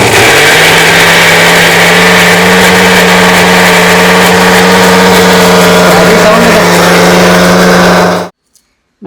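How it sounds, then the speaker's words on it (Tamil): A small kitchen mixer grinder runs on ginger and garlic, giving a loud, steady motor whine with a constant hum for several seconds before cutting off abruptly into silence. "இங்கே பாருங்கள் இஞ்சி பூண்டு அரைக்க ஆரம்பித்தாச்சு."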